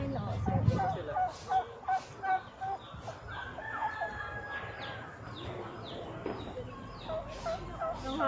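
Turkeys gobble in a series of rapid, rattling bursts at a steady rhythm, fairly close, with other fowl clucking and people talking softly in the background.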